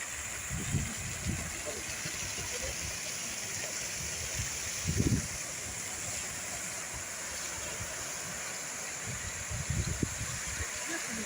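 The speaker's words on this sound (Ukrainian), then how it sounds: "Водоспад тут у нас є чудовий." A waterfall beside fountains in Kharkiv rushes steadily in the background, a continuous mid-level roar of water, with a few brief low thumps or voices now and then.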